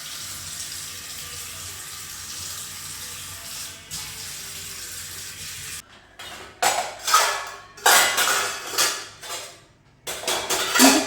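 Dishes that held tea and milk are washed under a running tap, first a steady stream of water, then clattering, clinking vessels being rinsed and stacked in uneven bursts close by.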